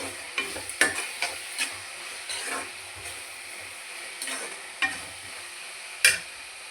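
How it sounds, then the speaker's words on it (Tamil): Curry leaves sizzle and crackle in hot oil while a spoon stirs and scrapes the pan, with occasional sharp clinks, close by and without talking. "அது கூட கொஞ்சம் கருவேப்பிலையும் சேர்த்துக்கலாம். நல்லா வதக்கலாம்."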